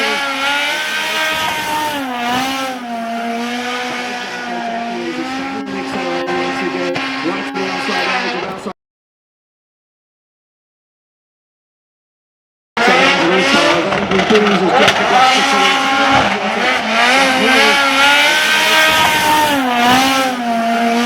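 A 920-horsepower BMW 1050 Turbo drift car at Drift Masters Ahvenisto revs hard with wavering engine pitch and tire squeal, loud and close. The sound cuts to silence for about four seconds, then resumes at full volume, with a voice faintly underneath.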